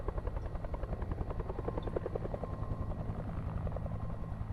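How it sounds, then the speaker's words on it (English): A helicopter flying overhead in the point-and-click adventure game Alpha Polaris, a steady rapid rotor chop with a low engine drone, continuous and fairly close throughout with no talk. "Sounds like a chopper."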